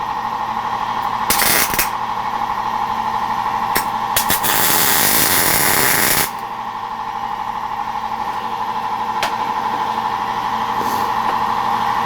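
Tack welding a BMR suspension part, a steady electric buzz and hum broken by several bursts of harsh crackling arc noise, the longest lasting about two seconds, heard up close without talk.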